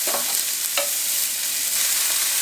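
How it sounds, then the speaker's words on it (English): Onions fry in olive oil in a pan with a steady, close sizzle and a few light clicks of stirring, with no voices. "So while the onions are cooking, I'm going to add just another tablespoon of olive oil and let them keep cooking."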